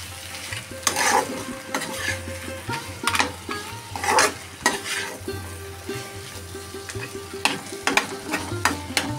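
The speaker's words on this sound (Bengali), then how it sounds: "দিয়ে একটু নাড়িয়ে চাড়িয়ে দিচ্ছি" Fish head murighonto stirred in a pan after salt goes in, a continuous close sizzle broken by irregular scraping and clattering strokes of a spatula against the metal, with no voices.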